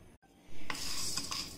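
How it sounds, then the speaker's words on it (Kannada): Chana dal and urad dal dry-roasting in a hot pan without oil, a soft rattling stir and scrape of lentils against the metal rising after a brief quiet gap and continuing steadily, close and alone. "ಕಡಲೆಬೇಳೆ, ಉದ್ದಿನಬೇಳೆ, ಇದನ್ನು ಎಣ್ಣೆ ಹಾಕದೆ ಹುರ್ಕೊಳ್ಬೇಕು."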